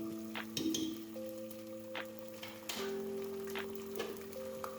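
Onions with ginger garlic paste frying in a pan, a soft, steady sizzle with scattered crackles and faint ticks, fairly quiet and with no voices.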